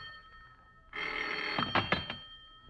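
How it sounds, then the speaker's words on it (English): In a radio mystery drama, an old telephone bell rings steadily and loudly for nearly two seconds, with a few clunks near the end, after a quiet room. "the phone bell cuts through the darkness like a knife"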